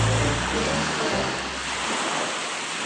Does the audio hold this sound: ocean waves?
yes